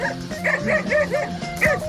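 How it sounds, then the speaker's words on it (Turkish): Several dogs bark and yip in quick succession as they approach outdoors in a historic village, the bright barks close and fairly loud, repeating roughly every quarter second over a steady background hum. "Şu köpekler yemez değil mi bizi?"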